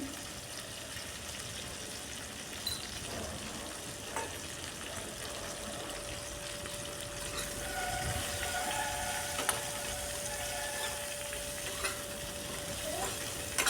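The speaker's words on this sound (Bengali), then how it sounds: "সামান্য লবণ দিয়ে ভেন্ডিগুলোকে এখন আমি ফ্রাই করে নিচ্ছি।" Okra frying in a pan with a little salt over medium gas heat, a steady low sizzle with occasional soft clicks and scrapes of stirring, fairly quiet and continuous with no talk.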